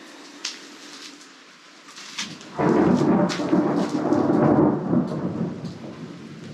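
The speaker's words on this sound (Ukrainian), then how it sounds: "О, У нас гроза." Thunder from a passing thunderstorm opens with a few faint distant cracks, then swells into a loud, close, sustained rumble with rain hiss that rolls on for several seconds before easing slightly.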